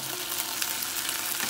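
Al dente asparagus sizzles steadily in a pan of hot olive oil, a close, continuous bright frying crackle with no other sounds.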